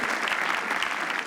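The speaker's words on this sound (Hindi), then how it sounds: "एक बार can you clap for bro code?" Audience applause at a live comedy roast, a steady dense wash of clapping hands filling the room, continuous and fairly loud throughout the short burst.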